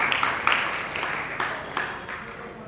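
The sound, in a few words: audience clapping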